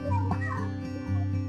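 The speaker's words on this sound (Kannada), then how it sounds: "ಅದೇ ಕೆಂಪು ಕಾಡು ಕೋಳಿ" A nearby red junglefowl at Bannerghatta zoo gives a harsh, throaty call with a few rising and falling notes, close and fairly loud.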